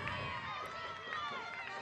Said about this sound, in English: You can still hear the Seminole players in the dugout cheering on their teammates.